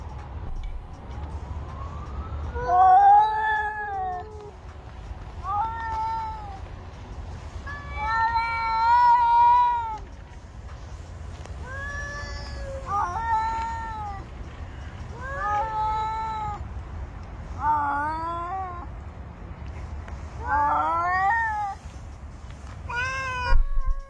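Several cats meow again and again in a long run of short, rising and falling cries, some drawn out like a caterwaul, close and fairly loud over a low background hum.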